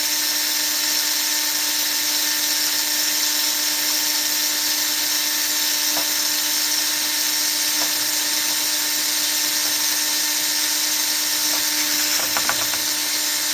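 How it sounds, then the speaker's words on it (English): A steady, high-pitched mechanical whine of a power drill spinning a fishing reel continuously, with occasional faint clicks and rattles as the reel sticks. "You can see the drill moving from it getting stuck."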